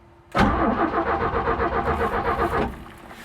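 A 1967 Chevy C10 that sat parked for 23 years cranks with the ignition on, the starter churning in a fast, even rhythm for about two seconds without catching.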